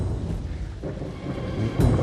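Heavy rain pours down with a low rumble of thunder, a steady wash of downpour that swells near the end, with no voices.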